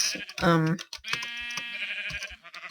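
Minecraft sheep bleat in a loud, wavering call, followed by a second drawn-out bleat, with a voice talking alongside and some clicking in between.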